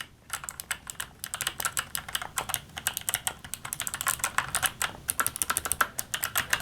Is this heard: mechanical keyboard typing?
yes